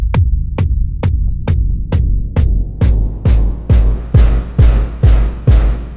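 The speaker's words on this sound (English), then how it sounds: "Give ourselves a 4 on the floor kick" A synthesized techno kick drum made in Synplant 2 pounds a steady four-on-the-floor beat, around a dozen evenly spaced thumps, loud and dry, with a booming low tail that grows denser over time.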